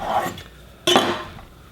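A big chef knife cuts a cauliflower head down the middle, making a short scraping crunch followed by a sharp knock of the blade striking the cutting board, close and fairly loud with no voices.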